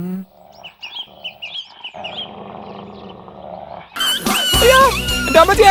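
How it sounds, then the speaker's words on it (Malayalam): A dog growls in a short film scene with a low, close rumble between quieter moments, followed by a sudden louder, busier burst of sound. "പട്ടി പട്ടി പട്ടി"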